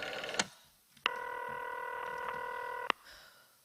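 A vintage telephone is dialled to reach the police, giving a quiet, clean sequence of electronic tones: a short blip, then a long steady tone of nearly two seconds ending in a sharp click.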